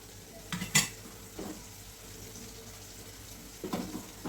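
A spoon stirs ground spices into a dried pea and potato curry in a pot over a slow-to-medium flame. A few sharp metal clinks and scrapes stand out over a faint, quiet background.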